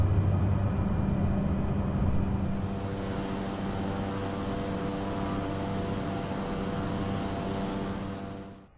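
Steady engine drone of a Cessna Caravan in Microsoft Flight Simulator, a continuous hum with a high whine joining after a couple of seconds, holding even throughout and fading out at the very end.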